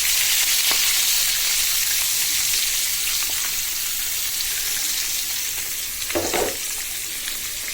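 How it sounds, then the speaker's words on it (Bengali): Spice-coated koi fish (climbing perch) fry in hot spiced oil, a loud, dense crackling sizzle that runs steadily throughout, with a brief sharper spatter burst near the end and no talking. "কই মাছগুলো দিয়ে দিলাম, এক পাশ হয়ে যাক।"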